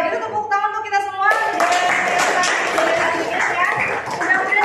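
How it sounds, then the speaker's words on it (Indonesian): Students and teacher in a classroom break into applause, a loud burst of many hands clapping that follows a teacher's spoken prompt and keeps going for several seconds. "kalau gitu tepuk tangan untuk kita semua"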